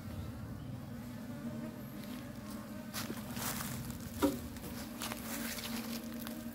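Honeybees in a backyard hive keep up a steady low drone at close range, the buzzing continuous and even, with a few faint taps and rustles over it.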